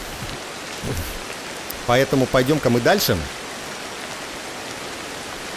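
Steady rain falls in the video game Ancestors: The Humankind Odyssey, a constant even hiss that continues beneath a man's brief speech.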